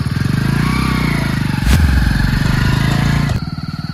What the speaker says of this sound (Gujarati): તમે ચાલુ કરો ને બાઈક